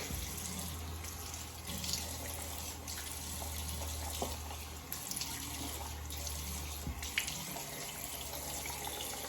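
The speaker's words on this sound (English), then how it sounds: "Can get that rinsed off real quick." Tap water runs steadily into a sink as shaving soap is rinsed off a razor or brush, a close, continuous splashing stream with small clinks and knocks, no talking.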